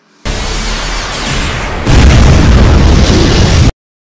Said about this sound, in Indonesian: setelah itu terjadilah ledakan yang sangat kuat